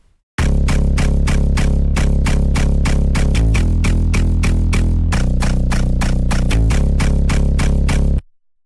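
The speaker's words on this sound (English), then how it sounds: "so the bass, and it sounds like this" A deep, clean synth bass made of two layered sine waves plays a rhythmic pattern of short punchy notes, shifting pitch a few times, loud and alone without other instruments.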